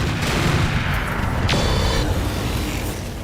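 Mech weapons firing in the battle game RogueTech, a dense, loud roar of gunfire and explosions that runs without a break, with a sharp crack near the middle.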